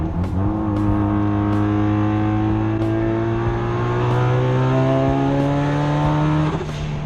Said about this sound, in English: it puts a smile on my face every time I hear that turbo spool up